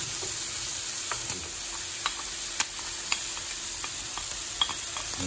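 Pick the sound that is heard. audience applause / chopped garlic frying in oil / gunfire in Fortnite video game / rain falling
chopped garlic frying in oil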